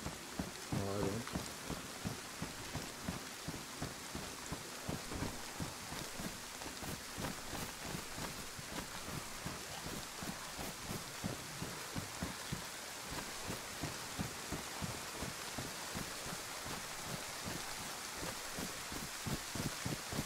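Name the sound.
heavy rain falling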